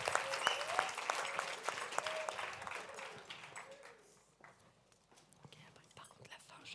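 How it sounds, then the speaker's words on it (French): An audience applauds a band on stage at the FF1J 2022 opening ceremony; the clapping is full and lively at first, then thins and fades as murmured talk and whispering carry on underneath. "Vous pouvez les applaudir."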